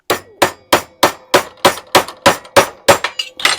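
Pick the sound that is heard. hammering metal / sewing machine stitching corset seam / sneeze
hammering metal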